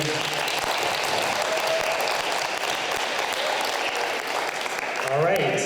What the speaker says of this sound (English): let's give another round of applause to our grade 8 behind me